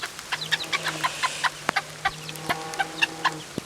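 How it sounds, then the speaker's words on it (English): Backyard hens clucking and murmuring close by, with short repeated calls and a few sharper clucks over a quiet morning background. "There's the chickies."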